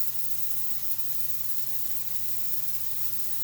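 A Halloween fogger machine runs steadily, giving a constant, even hiss of spray with a low hum underneath, alone and unbroken throughout.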